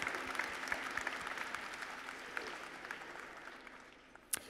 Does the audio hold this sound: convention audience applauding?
yes